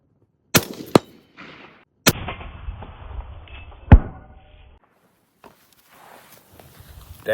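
Sharp rifle shots crack outdoors, one striking a 3-inch steel medallion target at 100 yards, with a few loud isolated reports and short echoing tails separated by quiet gaps.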